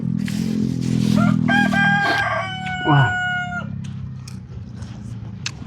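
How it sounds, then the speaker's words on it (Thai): A rooster crows loudly nearby, one long drawn-out cock-a-doodle-doo, with hen clucks and farmyard ambience around it. "ไก่กับพ่อไก่"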